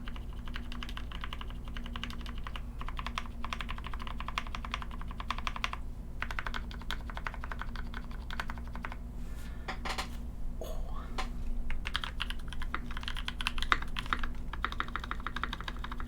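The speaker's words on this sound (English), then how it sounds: "That's the spacebar sound that I've always wanted." Steady rapid typing on a C3 Zer0.9 polycarbonate mechanical keyboard fitted with NK Cream switches, with dense, close clacks of keys and spacebar continuing without a break.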